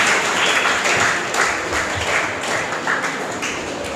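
Audience at a children's prize ceremony clapping, a loud, close, continuous burst of many hands with no voices over it.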